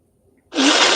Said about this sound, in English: just blowing my nose